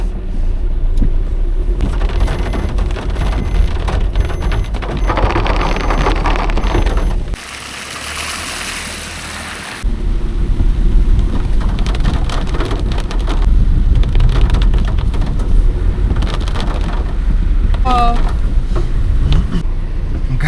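A car is being driven out in heavy Shimla rain. A low, steady engine rumble sits under a constant loud hiss of rain drumming on surfaces, with a brief muffled stretch partway through.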